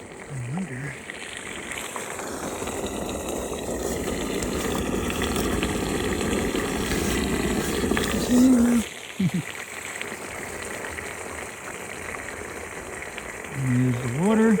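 Continuous loud rushing and gushing of water from a downspout drainage pipe into a dry well, steady for most of the stretch, with brief voices near the end.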